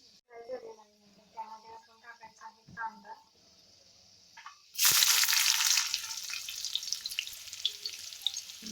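Flame-roasted eggplant for bharit, about half a kilo, is dropped into a hot pan and bursts into a loud, steady sizzle that follows a few seconds of talking.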